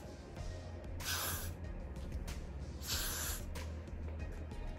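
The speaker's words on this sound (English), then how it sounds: "Gonna spray this again." Two short hissing bursts of hair spray from an aerosol can while styling a wig, each lasting about half a second, close by against a quiet background.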